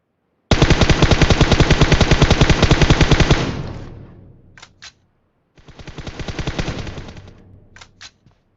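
Two long bursts of rapid automatic gunfire in PUBG Mobile on the Erangel map, loud and close, each burst trailing off, with a few sharp single clicks after each.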